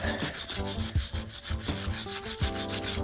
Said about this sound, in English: Take a wire brush and make sure all the dust is cleaned off